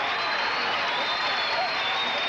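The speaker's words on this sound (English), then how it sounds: "And this crowd is really liking it." Crowd at a 1978-79 high school basketball game between Morton and St Ignatius cheering and applauding, a steady broad roar filling the gym, with voices mixed in.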